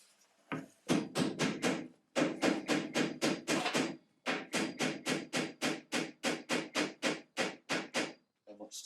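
Repeated hammer blows drive a part in during boat building work, a long run of sharp, evenly spaced strikes broken by a few short pauses, close and loud with no talk.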